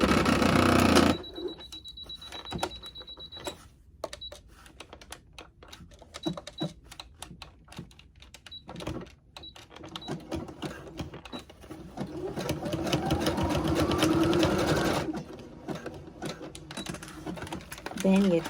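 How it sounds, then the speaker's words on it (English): Close, uneven bursts of rapid mechanical clicking and rattling come from a sewing machine stitching through many thick layers of bridesmaid-dress fabric, stopping and starting, with a person talking over parts of it. "you're going through a lot of layers of fabric, so you can have some issues with your needle going through it."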